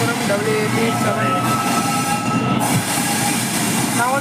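A Thiruvananthapuram weekly express train hauled by a WAP7 electric locomotive rolls loudly and steadily with a dense roar of wheels and coach movement, faint squeals and rattles throughout, recorded from on board at speed.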